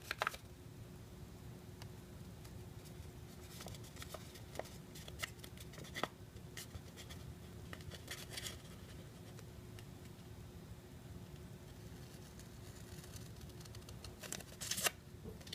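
Scissors snip through a paper airplane template along dotted lines, with a few crisp cuts and rustling paper over a steady low hum; no one talks.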